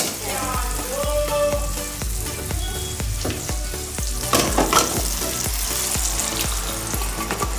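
Leafy greens frying with spices in a hot pan, a steady loud sizzle broken by rhythmic scraping and stirring strokes throughout.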